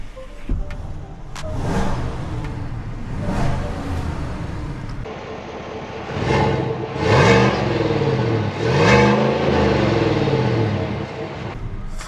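A GMC Sierra SLT's 5.3-liter V8 engine revs repeatedly in a series of strong rising pulls, each swelling and falling back, loud and close, with no talking over it.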